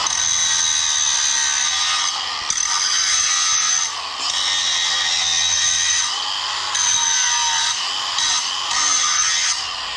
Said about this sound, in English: let's just take this bolt that I have right here and see how well we can grind her down a little bit